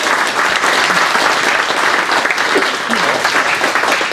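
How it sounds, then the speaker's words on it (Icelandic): Audience applause rings out for a newly redesigned logo at a gathering in Eldheimar, a dense, steady clapping that stays loud and close for the full span with no break. "Við ekki að klappa fyrir því?"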